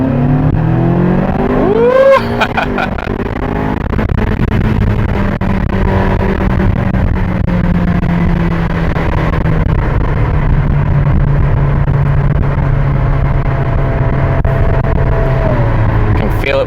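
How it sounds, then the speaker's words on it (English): A 2010 Ferrari California engine drones loudly from inside the cabin during a test ride after an oil change, with a rising rev near the start and a sustained pull, with voices talking over it. "So that's a Ferrari California."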